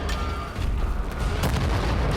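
Heavy cannon blasts from clifftop bunker guns in Wolfenstein: The New Order, a dense run of loud booming reports rolling over one another with no talk.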